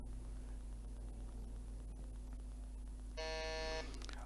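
A sharp electronic quiz buzzer sounds once for under a second, cutting through a low steady hum.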